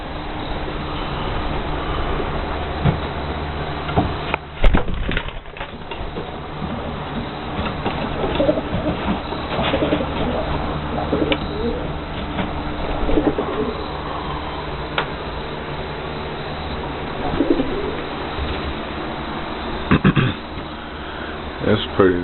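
Young pigeons coo in a loft beside an aviary, their soft, repeated low calls running throughout, with someone talking nearby and occasional knocks and rustles in the background.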